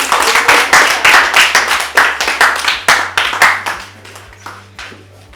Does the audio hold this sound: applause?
yes